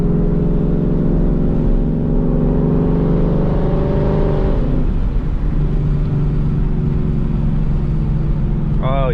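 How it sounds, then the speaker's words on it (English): A 2018 Mustang GT with a new exhaust roars loud and close, its engine note dropping through a downshift midway and then droning on, with voices heard near the end. "Oh man, them downshifts are awesome."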